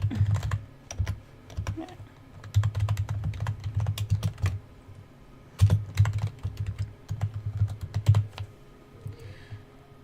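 Text being typed on a computer keyboard: bursts of close, crisp key clicks in uneven runs, separated by short pauses, with no one talking.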